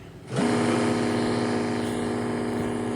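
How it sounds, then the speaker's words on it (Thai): A buggy car engine revs up sharply from idle and holds a loud, steady high-pitched drone, close by, with no voices. "นี่เร่งเครื่องโชว์"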